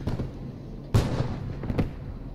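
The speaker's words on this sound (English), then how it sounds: "Shots to the east, though." Cannon and gunfire in a World War II tank battle video game: several muffled blasts, one louder hit near the middle, over a constant low engine rumble.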